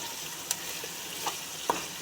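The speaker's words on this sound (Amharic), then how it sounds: "እንደዚህ መጠበስ አለበት ማለት ነው።" Food fries in a pan with a continuous soft sizzle, broken by a few light clicks and scrapes of stirring, close by with no talking.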